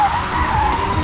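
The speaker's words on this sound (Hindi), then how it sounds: "अबे जल्दी गाड़ी चला।" Car tires skid sharply during a getaway drive, a brief, loud squeal over engine rumble, close and alone.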